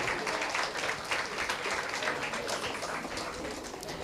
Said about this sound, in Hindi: everyone big round of applaud for Sheikh Naveed भाई